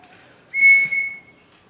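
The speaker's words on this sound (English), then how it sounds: "Everyone in this house answers to a whistle." A single sharp, high-pitched whistle blast used as a signal in a large house, clear and close, lasting under a second against a quiet room.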